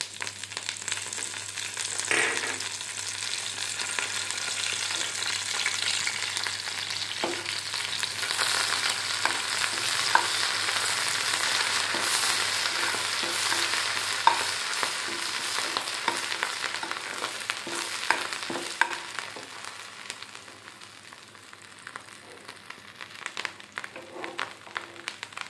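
Curry leaves, mustard seeds and black gram dal crackle in hot oil while tempering for an Andhra-style coconut and raw mango chutney, a steady close sizzle with scattered pops and faint stirring throughout.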